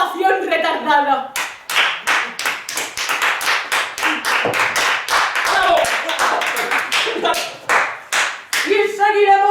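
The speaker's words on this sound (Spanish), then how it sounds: "Ovación retardada." Delayed ovation from a theatre audience, clapping swelling into a dense, sustained round of applause and then thinning out, with speech before and after it.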